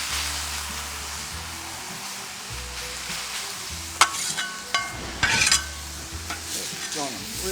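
Shrimp, steak and rice sizzling on a Blackstone griddle, a steady frying hiss with metal spatula scrapes and clinks breaking through midway, no talking.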